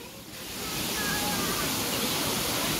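A waterfall in the Kowloon Park aviary pours in a steady, dense hiss of falling water that swells in the first second and then holds loud and constant, with faint bird chirps above it.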